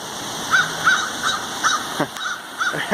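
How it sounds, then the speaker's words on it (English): A couple of crows calling outdoors, giving several short, harsh caws spaced irregularly over a steady background hum, moderately near. "Just gonna show you guys who's making that noise behind me. It's a couple crows."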